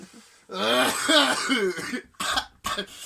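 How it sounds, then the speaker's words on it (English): A person strains and vocalizes in a strangled way, holding back a cough, followed by two short throat-clearing bursts. "That's me fighting a cough."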